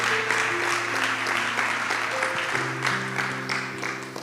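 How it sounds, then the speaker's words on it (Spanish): A Spanish-speaking audience claps for Camilo, steady applause that holds throughout, with a sustained musical tone beneath. "un aplauso para Camilo"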